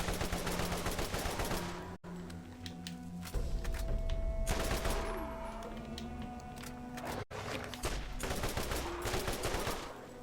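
Rapid bursts of gunfire from a gun in the video game Borderlands, loud and close, repeating throughout with brief gaps and game sound layered beneath.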